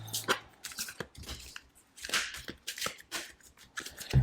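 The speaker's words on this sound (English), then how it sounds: "And I'm shuffling for Scorpio now." Soft papery riffling and slapping of a tarot deck being shuffled, several quick bursts in an irregular rhythm, close and fairly quiet.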